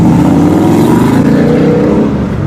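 A 2024 Ford Mustang GT S650 with a naturally aspirated V8 revs loudly up close, its exhaust holding a thick, steady roar that eases off slightly toward the end.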